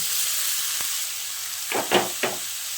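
Spinach leaves being stirred into potatoes in a frying pan, with a soft steady sizzle and a few louder bursts of hissing and scraping as the greens go in and are turned, close by with no talk.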